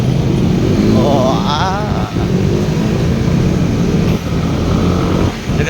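Motorcycle engines and road traffic passing on a road in the Philippines, a loud close droning hum with a rising rev whine, steady wind-like roar throughout and brief dips as vehicles pass.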